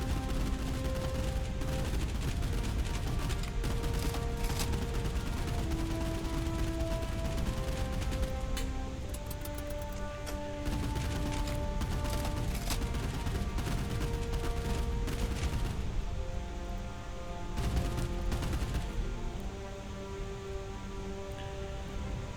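Gunfire in the naval combat video game Boat Crew rattles on almost continuously in dense rapid bursts, with sustained musical tones running underneath and no voices.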